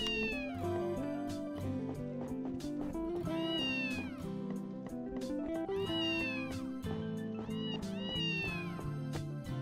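A cartoonish cat meows repeatedly in a fantasy adventure game over busy background music, several drawn-out mews rising and falling, with no speech.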